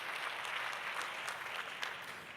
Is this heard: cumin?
no